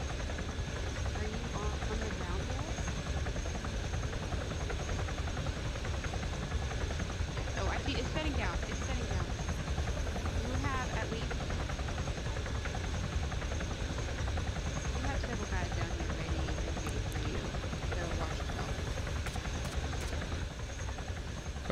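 A video-game helicopter in Arma hovers while trying to land, its rotor and engine a loud, steady, unbroken drone throughout, with faint talk beneath.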